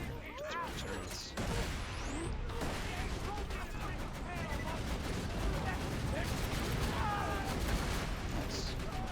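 Turret gunfire rattles in the video game Borderlands 2, a dense stream of rapid shots and impacts with mechanical clatter, steady and loud throughout while a player talks over it.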